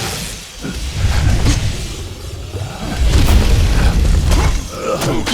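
The dragon Tirnoch breathing fire during a boss battle in Kingdoms of Amalur: Reckoning, loud roaring, rumbling blasts that surge twice amid heavy combat noise, close and dense.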